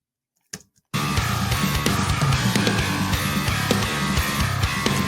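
Playback of a hard rock or metal mix of drums and bass in Dolby Atmos, starting abruptly after a brief click and near-silence, then a dense, loud continuous groove of pounding drums and low bass.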